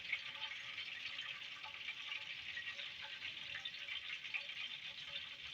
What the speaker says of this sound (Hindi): पहले इसका ऐसे ऑयल इससे टपकने देंगे ताकि इसका फालतू ऑयल निकल जाए।